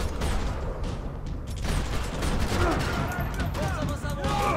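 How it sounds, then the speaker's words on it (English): Gunfire in the Max Payne 3 video game rattles steadily over a thick, noisy backdrop of game sound. The shots come as a loud, constant fusillade with no clear gaps. "I managed to shoot that guy once"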